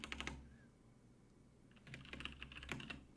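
Typing on a computer keyboard, quiet close clicks in two bursts, a quick flurry at the start, a pause, then a longer run of rapid keystrokes.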